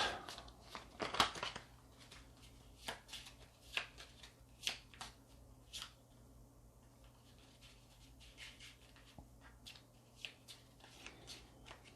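A deck of playing cards is shuffled by hand in quick riffling bursts, with crisp fluttering clusters and scattered sharp slaps, fairly close and alone over a low steady background hum.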